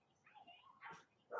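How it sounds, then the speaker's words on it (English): Neighboring dogs bark and whimper in short bursts, faint and distant, as an indoor voice talks over them. "Neighbor's dogs."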